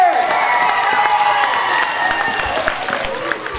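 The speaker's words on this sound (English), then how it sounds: "Give her a big cheer!" Elementary school morning assembly crowd cheering and clapping for a student, a loud, dense wash of children's shouts, whoops and applause that stays steady throughout.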